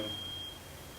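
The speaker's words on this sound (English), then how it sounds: "somebody's fire alarm's going off" A neighbour's fire alarm gives a single thin, steady electronic tone, heard at a distance and fairly faint over quiet outdoor porch ambience before it cuts off.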